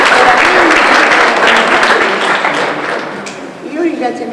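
Applause from the crowd at the inauguration of a municipal toy library in Capua, loud and dense at first, then thinning and fading toward the end, with voices talking through it.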